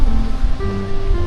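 Rough sea waves at a beach in Morong, Bataan make a loud, close, continuous surf roar that washes and hisses steadily throughout, with no one speaking.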